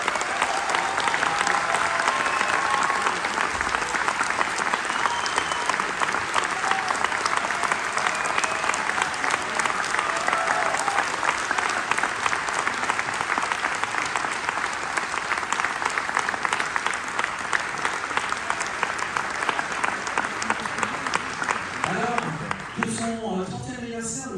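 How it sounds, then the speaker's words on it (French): An audience at a festival's 30th-anniversary ceremony applauds its founder in a dense, steady wave that holds for over twenty seconds, loud and unbroken, thinning only slightly at the very end. "je vous propose tout de suite d'applaudir"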